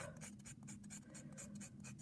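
Chalk stick shaved with scissors, flakes dropping toward water: a steady dry scratching and scraping texture with repeated short strokes, close and fairly quiet, alone without voices.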